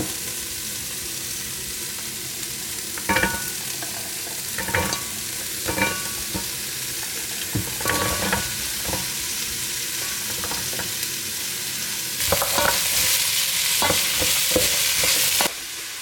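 Celery and carrots frying with garlic in a pot, a continuous sizzle broken by repeated stirring scrapes, growing louder and brighter near the end.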